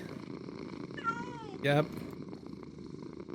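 A video game cat purring while it sleeps on a character's face, a short soft rumble with a brief meow, under quiet room tone and a person speaking.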